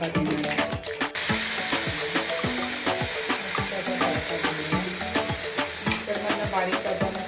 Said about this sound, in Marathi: थोडं हिंग चमच्यावर तेल टाकलेलं आहे आणि त्याला आता मस्त असा तडका देणार आहे